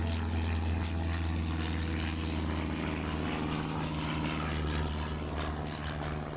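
A propeller aircraft takes off from a runway in the Airport Madness game, set in the 1925-1928 era, with a steady loud engine drone and hum that holds at a constant level throughout.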